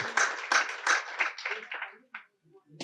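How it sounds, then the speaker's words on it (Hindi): A brief, uneven burst of clapping from an audience at a gathering of GST officers in Nagpur, fading after about two seconds into near silence with a last faint clap. "उन सभी लोगों के लिए एक जोरदार तालियां लगाइए"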